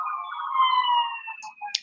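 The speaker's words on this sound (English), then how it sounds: "I can hear the sirens in your background too, Vincent." Sirens wail in the background of a phone caller's line, a thin, wavering tone that rises and falls, followed by a few short bursts at the end.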